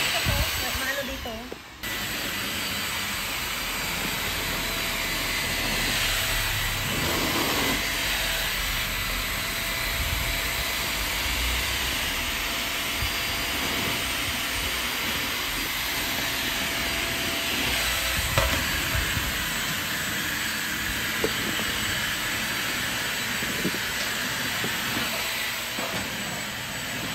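A Tixx vacuum cleaner runs continuously with a steady whooshing roar and a thin high whine, the sound holding level for nearly half a minute while people talk over it.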